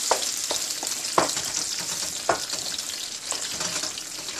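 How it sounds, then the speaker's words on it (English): Onion paste hits a hot pan already holding ginger and garlic puree for a Punjabi malai kofta gravy, giving a steady, close sizzle broken by a few sharp crackles and stirring scrapes. "Here goes my onion paste."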